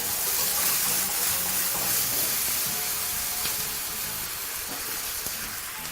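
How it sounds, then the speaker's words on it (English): Stock poured into a hot pan holding red curry paste and tomato paste, giving a loud, steady hiss and sizzle that stays fairly even for the whole six seconds. "And then just a bit of stock to deglaze the pan."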